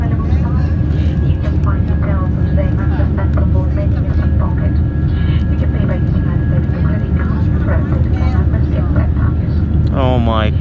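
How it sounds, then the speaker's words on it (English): A steady roar fills the cabin of a British Airways Airbus A320-232 climbing after takeoff from London Heathrow. The loud, constant engine and air noise never lets up, and a voice talks over it. "So we finally took off London Heathrow"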